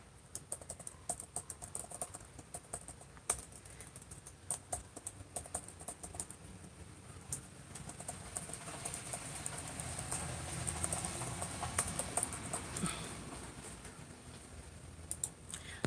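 Rapid, uneven keystrokes on a computer keyboard while emails are typed, with close clicking bursts that run steadily throughout and swell a little denser in the second half.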